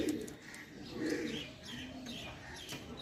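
Pigeons in a dealer's loft cooing softly, faint repeated coos and occasional chirps, distant and low in level with little talk.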